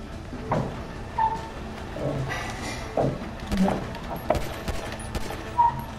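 Gunshots from a pistol loaded with 12-gauge rounds in Grand Theft Auto V, several sharp reports at irregular intervals over game background noise, with faint talk in between.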